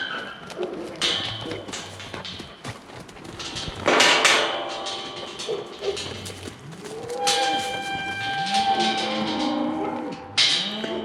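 Cows and calves crowd at a gate on a farm raising bulls, giving repeated loud moos and drawn-out calls close by, with clanks and hoof knocks mixed in.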